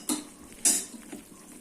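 Mysore pak mixture of gram flour and sugar syrup stirred with oil in a pan, giving two sharp metallic scrapes of a spoon against the pan with softer clinks between, close and fairly quiet.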